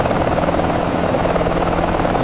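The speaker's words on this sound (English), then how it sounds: "E is for emergency helicopter." A mountain rescue helicopter in flight, its steady rotor and engine drone loud and continuous throughout, with no voices over it.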